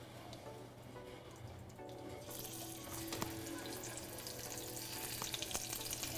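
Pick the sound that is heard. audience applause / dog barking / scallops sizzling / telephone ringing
scallops sizzling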